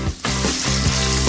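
KFC chicken frying in hot oil, a loud, steady close sizzle and crackle that fills the whole moment without any voices.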